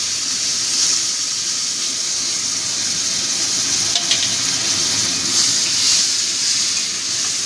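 Tomato dropped into a hot pan with red chilli and Kashmiri chilli powder, setting off a loud, steady hiss of frying that carries on unbroken, with a few faint clinks.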